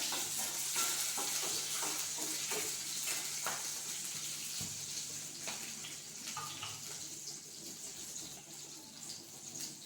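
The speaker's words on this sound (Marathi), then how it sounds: "हिरवी मिरची, याला छान परतून घेऊ" Green chillies sauté in a pan with a steady faint sizzle and occasional stirring scrapes, close and quiet, with no talk.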